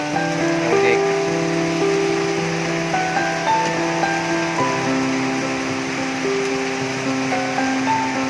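Steady rain falls outdoors on a street, a constant even hiss running throughout, with faint sustained tones and low hum layered over it.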